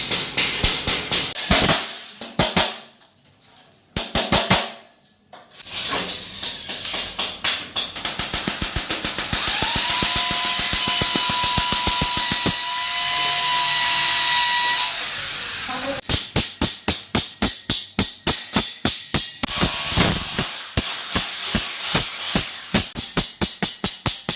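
Power drill boring a hole through a steel carrying channel fixed to a steel deck ceiling, heard in close, loud bursts with a steady whining run in the middle, rapid rattling clicks and brief pauses between passes.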